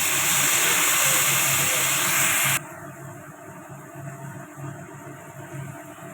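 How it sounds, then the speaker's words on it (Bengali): Water poured into a hot pan of Bengali chorchori curry with bitter gourd, pumpkin, potato and shrimp gives a loud, steamy hiss that cuts off abruptly partway through, leaving quieter bubbling and faint kitchen noise. "পরিমাণ মতো জল দিয়ে দিলাম।"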